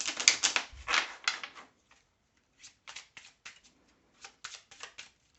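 Oracle cards being shuffled for a reading, a run of crisp riffling bursts, then a pause and a few lighter flicks close by.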